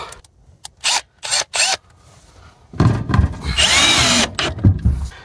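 A power drill drives screws to mount an exhaust vent, with three short whirring bursts, a pause, then a longer grinding run as a screw bites and tightens, loud and close.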